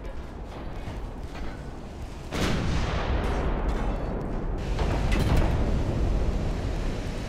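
Heavy naval gun salvos boom in the warship battle game Ultimate Admiral: Dreadnoughts, starting with a low rumble and then a loud blast. A second burst of fire follows, and the deep, sustained roar carries on to the end.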